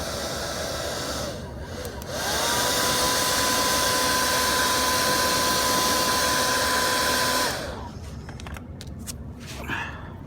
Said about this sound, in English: after a little bit of working with the heat gun for about 20 minutes